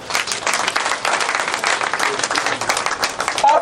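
An audience at a political gathering bursts into loud sustained applause, dense clapping with a few voices rising from the crowd near the end.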